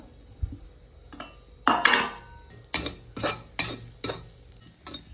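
Chopped onion tipped into a pan for a stingray fish curry, heard as a run of close utensil clanks and stirring scrapes in several distinct bursts, with only a faint sizzle underneath.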